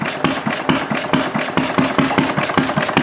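Engine fitted with a glass cylinder head idling at about 200 RPM, giving a steady, even train of close, rhythmic firing pulses roughly every quarter second, with no talk over it.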